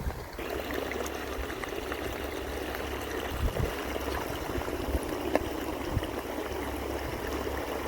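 Irrigation water flowing through a field channel on a coriander and fenugreek farm, a continuous rushing trickle of moderate loudness with scattered splashes.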